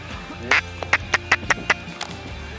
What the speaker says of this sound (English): Once the sun came up, the ducks started to come, and they didn't stop.